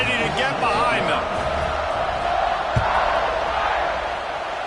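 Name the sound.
football stadium crowd at kickoff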